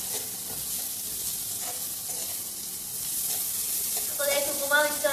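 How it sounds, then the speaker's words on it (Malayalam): Chopped carrots sautéing for upma in a pan give a steady close sizzle, with scraping strokes of a spoon stirring through them; near the end the frying grows louder and more crackly, with no talking. "ഈ ക്യാരറ്റും കൂടി നമ്മൾ ഇതിൻ്റെ കൂട്ടത്തിൽ വഴണ്ട് വന്നതനുസരിച്ച് ഇട്ട് കൊടുത്തിട്ട് നല്ലോണം ഇളക്കാൻ പോവാണ്."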